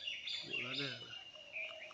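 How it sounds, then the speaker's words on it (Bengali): Village pigeons call nearby, with a short low cooing phrase under light, high chirping. The calls sit over a faint outdoor background. "এই যে সব কবুতর বেরোয় গেছে।"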